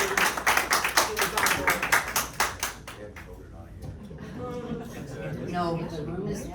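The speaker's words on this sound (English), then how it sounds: "hands of applause for everybody" Brief round of hand-clapping from a room of board members at a regular board meeting, loud claps fading out after about three seconds as voices and chatter continue underneath.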